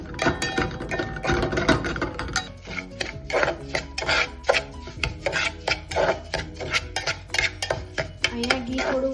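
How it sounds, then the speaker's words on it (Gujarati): Semolina roasting in ghee in a pan over a medium flame while being stirred, giving a steady dry scraping and rasping with repeated rhythmic strokes of the spoon against the pan, close and fairly loud, with no talk. "સોજી શેકીશું"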